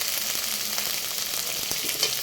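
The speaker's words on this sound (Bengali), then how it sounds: "এই যে রসুন, আদা রসুন আর পেস্ট সুন্দর করে লাল লাল করে ভাইজা" Ginger-garlic paste fries in oil in a pan for a tilapia fish curry, giving a close, continuous crackling sizzle with light stirring.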